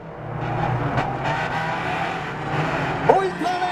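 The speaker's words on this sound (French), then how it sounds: "En accélération, il va tenter l'extérieur, il va large un peu, dérape, il ne réussit pas." A stock car racing on a track, the engine roaring steadily at close range with a sharp tire squeal near the end as the car skids wide through a corner.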